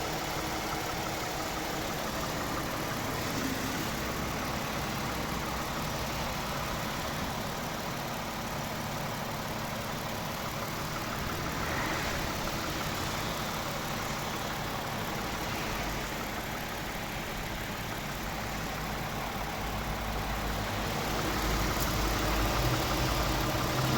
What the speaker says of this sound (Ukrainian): Ось робота двигуна, слухайте, як працює двигун.